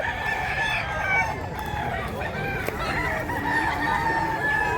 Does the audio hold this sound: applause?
no